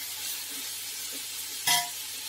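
Onions are sautéed and stirred in a pot for chicken biryani, a soft continuous sizzle with light stirring strokes and one bright metal clank of a spoon.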